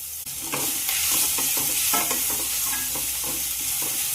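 Grated raw mango frying in a pan, giving a loud continuous sizzle broken by repeated rhythmic scrapes and stirs of a spatula, close up with no voices.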